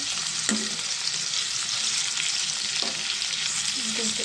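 Ivy gourds frying in hot oil in a pan, giving a loud, continuous dense sizzle with a few brief utensil knocks, close and steady throughout.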